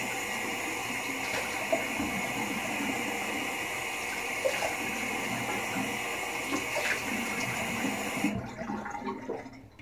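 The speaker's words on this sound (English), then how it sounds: "I'll go ahead and cold water rinse." Cold water runs steadily from a bathroom tap into a sink for a post-shave rinse, a continuous close splashing flow that stops near the end, with no talking.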